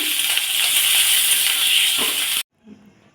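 Tomato frying in hot oil gives a loud, close, dense sizzle with faint stirring scrapes underneath, then cuts off abruptly, leaving a short soft clatter.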